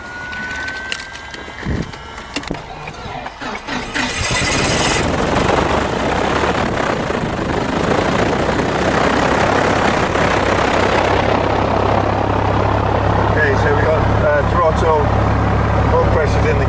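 Piper PA28 light aircraft engine cranking and catching at an aerodrome, rising at about four seconds into a loud, steady propeller engine drone that continues to the end, with brief talk and cockpit clicks before the start.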